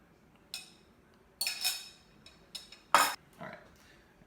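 A utensil stirs eggs into a cauliflower pizza crust mixture in a bowl, giving a few sparse clinks and scrapes, one sharp bright knock near the end, close and otherwise quiet.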